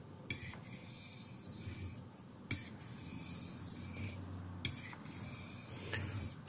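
A Spyderco Paramilitary 2 blade in CPM S30V steel rasps steadily on a HAIDU silicon carbide stone, close and fairly quiet, in long repeated strokes with brief pauses between passes.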